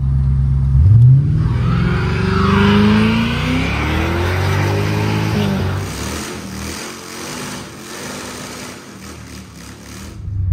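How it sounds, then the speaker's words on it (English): A Mark 8 car does a burnout, its engine revving hard and climbing in pitch before settling into a loud, sustained roar with tire-spinning noise, close up and without talk. "So, I always want to do a burnout."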